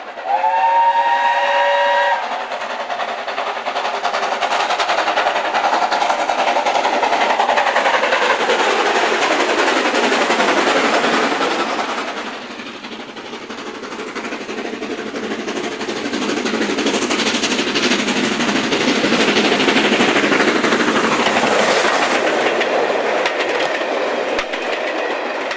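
A steam locomotive of the travelling post office train on the Great Central Railway gives a loud whistle blast at the start, then roars past near and loud, carriages rumbling and clattering steadily for about twenty-five seconds with no talk.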